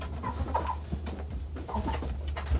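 Backyard chickens, a flock with a rooster among them, give soft intermittent clucks over a steady low hum, close by and gentle.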